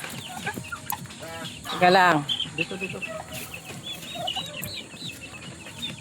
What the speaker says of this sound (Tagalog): yung pabo na may mga anak